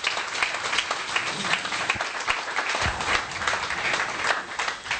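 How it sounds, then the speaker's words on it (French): A church congregation applauding together, dense sustained clapping from many hands filling the room at a steady loud level with no pauses. "Applaudissons le Seigneur Jésus."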